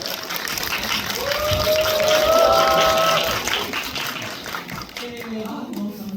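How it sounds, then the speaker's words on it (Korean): An audience at a film screening talk claps to welcome a guest profiler to the stage, a swelling wash of applause that peaks midway and then thins out, with a few whistle-like tones and voices in the background. "큰 박수로 맞아주세요."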